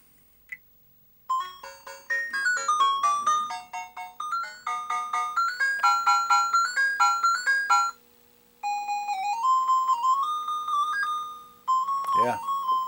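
Electronic chiptune arcade music and jingles from a 1982 Sun Electronics Kangaroo arcade cabinet after a coin is inserted, a loud bright sequence of beeping melodic tones with a brief pause midway and a rising sweep near the end.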